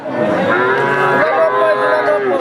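A loud, drawn-out moo from a heifer calf close by at a cattle market, lasting a couple of seconds with a slight break in pitch midway.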